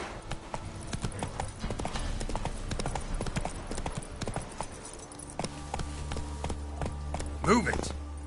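Roach the horse gallops in The Witcher 3, a steady rapid clip-clop of hooves running throughout, with a game voice speaking briefly over it and a short whinny near the end.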